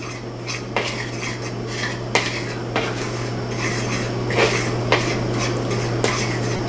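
A fork scrapes and taps in a bowl of flour mixed with garlic and herb seasoning, soft gritty strokes recurring at a steady pace, close by over a constant low hum.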